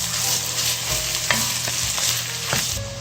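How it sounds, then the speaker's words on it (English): Roasted carrots slid into a hot pan for ginger butternut squash soup, with a steady sizzle and frying hiss throughout, broken by a few light scraping stirs, no voices. "Slide in the roasted carrots."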